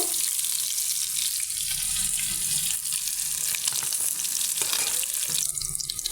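Fried fish lifted out of hot oil: a continuous close, bright sizzle and bubbling of the oil, with a couple of short clinks and shifts of the utensil near the end, and no voices.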